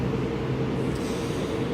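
Steady low rumble of a moving train heard from inside a car while riding, a continuous droning roar with faint rattling, close and loud with no talk.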